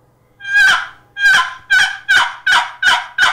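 Six raspy, rising yelps from a wooden turkey box call with a cherry lid and butternut sides and base, imitating a hen, loud and close, in spaced bursts that come quicker toward the end.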